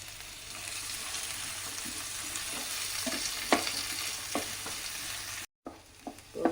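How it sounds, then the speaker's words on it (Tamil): Onions and curry leaves sauté in a pan with a steady broadband sizzle, while several sharp spoon-against-pan clicks and scrapes punctuate the second half, close and moderately loud. "இப்போ வெங்காயம் பாருங்கள் வணங்கிட்டு இருக்குது"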